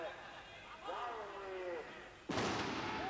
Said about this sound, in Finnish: Ja jälleen laukaus kajahtaa.